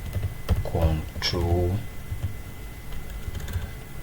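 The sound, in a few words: typing on a computer keyboard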